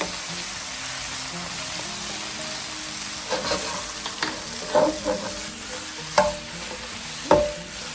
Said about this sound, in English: So we're getting those all coated with the oil and get them nice and brown.